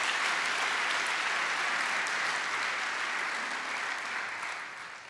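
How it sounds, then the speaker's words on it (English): Conference audience applauding a panel, dense continuous clapping from a large room that gradually tapers off toward the end. "let's give a round of applause for these people who made the contribution to our panel"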